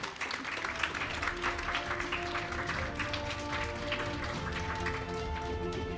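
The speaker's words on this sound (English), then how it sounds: "please round of applause for him too" An audience claps at a panel discussion during a talent summit, a dense, steady patter of applause running throughout without a break.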